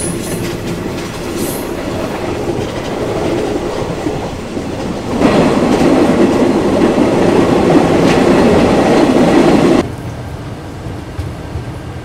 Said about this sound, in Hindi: बहुत क्यूट सी मीटर गेज की ट्रेन, लेकिन इसमें सुविधाएँ सारी हैं